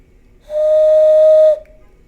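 A hand whistle made by blowing through cupped hands sounds one clear, steady, hollow tone for about a second, loud and close, starting and stopping cleanly.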